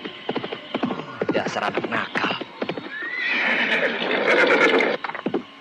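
A horse neighs loudly in a long whinny, framed by brisk, close hoofbeats clip-clopping in quick rhythm before and after, with a person speaking briefly over the sounds.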